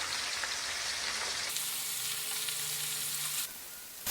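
Needlefish frying in a pan with curry leaves, a steady close sizzle of hot oil that swells sharply louder midway as the fish is turned, then eases back down near the end.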